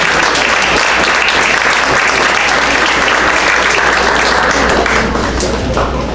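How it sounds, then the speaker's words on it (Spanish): Loud, dense applause from an audience at a book presentation, sustained evenly for several seconds with no voices breaking through. "Un fuerte aplauso a todas y todas"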